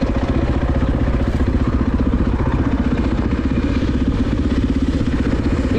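A KTM dirt bike runs steadily on an off-highway trail, its engine a loud, close, continuous rapid putter with a rough, even pulse throughout.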